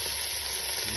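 Ingredients sizzle in hot ghee as chicken vegetable soup is started, a steady close frying hiss that fills the whole second.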